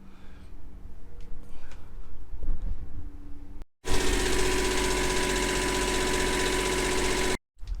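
Generator engine aboard a Grand Banks 36-foot boat running steadily, a loud continuous drone with a constant hum that cuts off briefly twice, following a quieter stretch of mechanical rumble.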